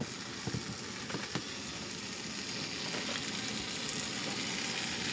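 Leftover chili and a little soup sizzle in a pan inside an off-grid camping vehicle, a faint, steady crackling hiss with a few sharper pops near the start.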